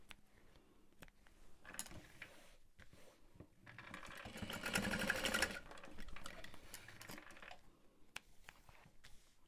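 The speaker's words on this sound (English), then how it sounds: "And I'll baste the top edge just ever so slightly." A home sewing machine runs a short basting stitch along the top edge of a fabric tote bag, a steady whirring burst in the middle framed by quieter handling clicks and fabric rustle.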